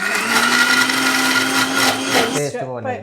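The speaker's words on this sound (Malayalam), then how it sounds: "നമ്മളിനിപ്പം തക്കാളി ഇനിയിപ്പം മിക്സിയിൽ ഇട്ടിട്ടൊന്ന്" A mixer grinder blending tomatoes whirs loudly and steadily for about two and a half seconds, then winds down as a voice begins speaking.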